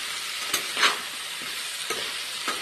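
Vegetables sizzle in a pan with salt and turmeric, a steady close frying hiss broken by a few short stirring scrapes, with no voices.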